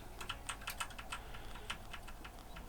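Quiet, close typing on a computer keyboard, a quick irregular run of light key clicks lasting a few seconds with no voices.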